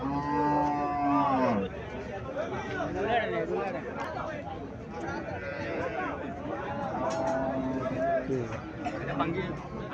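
A Holstein Friesian dairy cow gives a long, loud moo, then more moos and lowing follow among other cattle on a farm, with people talking nearby throughout.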